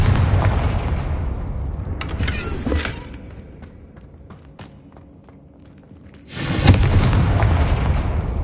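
The Confringo fire spell being cast in the game Hogwarts Legacy, giving booming explosive bursts with crackling hits and clatter, a loud burst at the start, quieter stretch, then another heavy blast.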